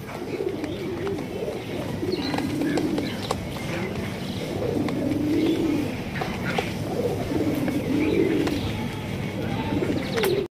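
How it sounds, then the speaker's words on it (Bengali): A pair of sky-blue Raj Golla pigeons coo in soft, repeated low rolling phrases, close by and steady, with faint chirps and background murmur. "খুবই সুন্দর আকাশি কালারের একজোড়া রাজগোল্লা কবুতর"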